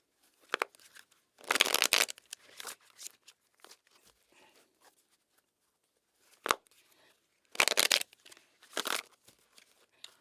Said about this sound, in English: let's cut this deck